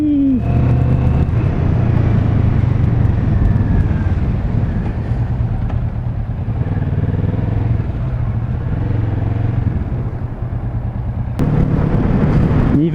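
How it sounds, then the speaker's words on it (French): A Kawasaki Vulcan S motorcycle on its stock exhaust rides steadily, a loud, continuous engine drone with shifting pitch and road roar throughout and no talk over it. "Niveau bruit, on est sur quelque chose de très discret. C'est l'échappement d'origine"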